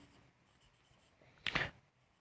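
Chalk or marker writing on a board during an accounts lecture gives one short scratchy stroke, quiet and close, against a faint background hush.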